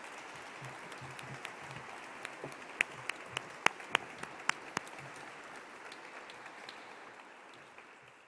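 An audience at a tourism strategy plan presentation applauds steadily for several seconds, a dense wash of clapping with a few sharper individual claps standing out, slowly tapering toward the end.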